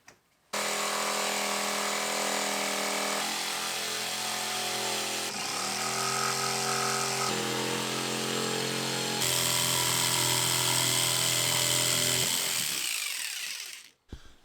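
A power tool cuts through the plastic and metal front end of a fifth-generation Toyota 4Runner being trimmed to fit an ARB bumper, a loud continuous whine with pitch shifts as the load changes, then spinning down at the end.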